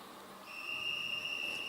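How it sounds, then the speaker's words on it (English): A single referee's whistle blown at a track cycling sprint event in Brisbane, signaling the race start: a sustained, piercing steady tone held for over a second, fairly clear over faint arena background. "So there goes the whistle."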